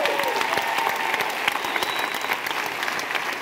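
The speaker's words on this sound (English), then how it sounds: "y'all give him one more hand clap" A crowd at an Air Force closing-remarks event gives a chief one more round of clapping: thick, continuous applause with scattered louder claps and a faint whoop, close and steady.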